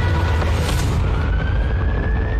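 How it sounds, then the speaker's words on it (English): A tornado siren wails during the 2020 Nashville tornado, a sustained slowly rising tone carried over heavy rumbling wind and storm noise, distant and continuous with no talk. "The tornado siren is still going on."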